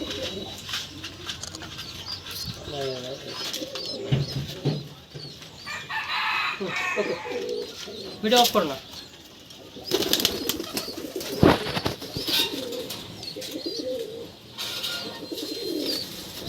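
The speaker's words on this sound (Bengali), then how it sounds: "ভাইয়ের বাসায় অনেক ভালো ভালো কবুতর আছে" Pigeons of a fancy breed with feathered feet, kept at a home loft in Rajshahi, coo and call repeatedly close by, with other birds chattering and a faint voice in the background.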